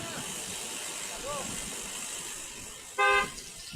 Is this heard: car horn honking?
yes